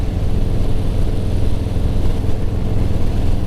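A 2020 Harley-Davidson Softail Slim with a 107 V-twin cruises in fourth gear at about 40 mph, its engine a loud, steady, close-up drone with constant low rumble and no talking.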